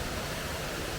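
Cotter Force waterfall in Yorkshire pours in a continuous, even roar of falling water, broad and steady throughout with no voices.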